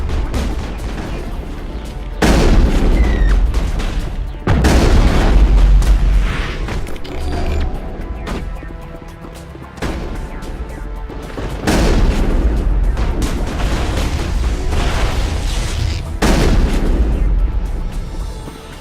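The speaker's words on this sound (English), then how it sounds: "There must be a way to shut that gun down." A large gun in the Mass Effect video game fires in several heavy booming blasts spaced a few seconds apart, each one loud and rumbling, with mechanical creaks between shots and some speech.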